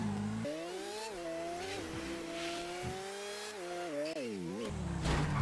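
Cars racing in GTA V, engines droning with harmonic pitch sweeps that rise and dip as they rev and shift, loud and steady throughout with a faint voice beneath.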